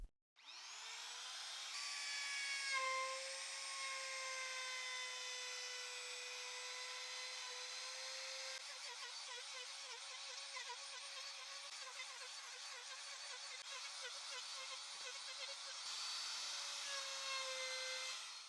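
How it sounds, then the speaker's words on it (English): A wood router with a 32mm 45-degree bit whines at high speed while rounding the edges of a wooden item, a steady sustained pitch with a rougher stretch midway as it cuts, continuous and fairly quiet. "Using the router, with this 32mm bit, which cuts at 45 degrees, I'll round off all the edges of the item on the inside and outside."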